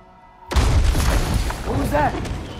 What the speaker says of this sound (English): What was that? The bomb.